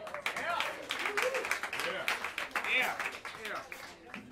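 Clapping from an audience at a live jazz show in a New York club, sharp crisp claps and whoops rising and falling, close by, with a voice talking over them.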